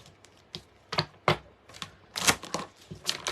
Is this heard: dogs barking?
no